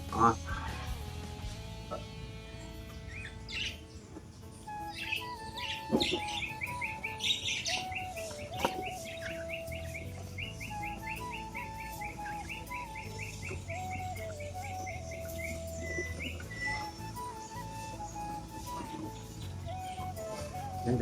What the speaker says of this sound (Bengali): এই পায়রাগুলোকে এখন আমার সব খাবার দিতে হবে